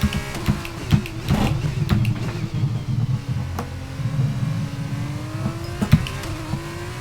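An F2 race car in the racing game F1 22 at the Portimao circuit, its engine droning steadily with a rising whine and brief revs, continuous and fairly loud.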